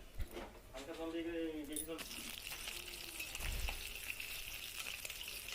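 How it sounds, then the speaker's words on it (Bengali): Fish frying in a pan in a home kitchen gives off a steady, close sizzling hiss that runs throughout, with a voice audible briefly near the start. "এই যে মাছ ভাজা হয়ে গেল"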